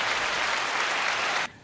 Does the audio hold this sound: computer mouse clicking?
no